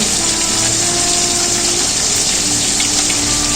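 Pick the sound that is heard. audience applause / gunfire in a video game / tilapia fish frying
tilapia fish frying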